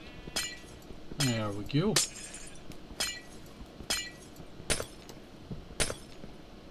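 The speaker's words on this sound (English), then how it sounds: "So, we'll break all of this glass here." Glass blocks shatter one after another in Minecraft, seven or so sharp crisp breaking sounds at an uneven steady pace, with a voice briefly speaking among them.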